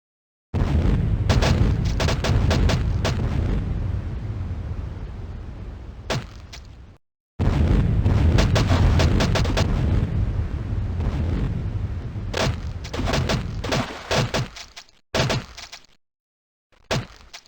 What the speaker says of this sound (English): fill your inventory with firebombs and light them all at once. When the avatar explodes